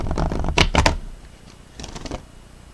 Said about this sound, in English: we're going to go ahead and shuffle these up a few times